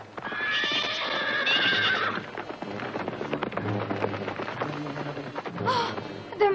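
A cartoon horse gallops with quick clip-clop hoofbeats and neighs loudly at the start. A second shrill whinny comes near the end, and the sound is close and busy.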